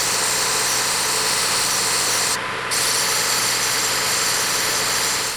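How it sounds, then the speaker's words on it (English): Brass is sanded with 80-grit abrasive, producing a loud, continuous rough whir that holds steady apart from one brief dip midway. "I'm going to drop down to 80 grit and just go all the way on this thing."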